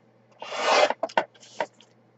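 Cardstock being cut to size for handmade cards, one long rasping stroke followed by a few shorter scraping bursts, close and alone.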